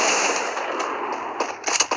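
Rapid automatic gunfire from a machine gun in the mobile shooter game Free Fire crackles in quick bursts, loud and close, growing denser and sharper toward the end.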